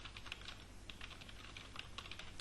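Rapid typing on a computer keyboard, a steady run of soft clicking keystrokes continuing throughout over a low background hum, with no voices.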